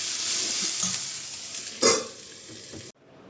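Food frying in a pan as chicken pulao is cooked: a soft, close sizzle with light stirring scrapes and one louder clatter near the end before the sound cuts off.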